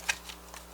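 A deck of cards gets a quick brief shuffle, a short crisp riffle burst followed by a couple of soft flutters, alone and fairly close.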